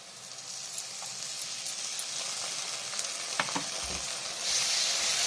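Ginger, garlic and chili paste sizzles and fries with onions in a pan, a steady soft hiss with a few scraping stirs, fairly quiet and without talk.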